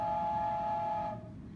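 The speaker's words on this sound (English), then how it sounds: "Sounds like a train whistle?" A steady, harmonic whistle-like tone from a homemade instrument, resembling a train whistle, held for about a second before cutting off, close and fairly clear.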